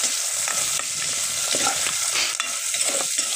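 Food fries with a steady, loud sizzle in a hot pot while a utensil stirs and scrapes it in short irregular strokes, close up with no talking.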